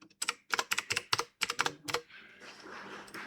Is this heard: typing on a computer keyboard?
yes